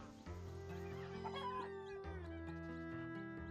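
Farm chickens cluck and crow in the video game Echoes of the Plum Grove over a sustained, tonal musical backdrop. Short bird calls rise above the steady chords.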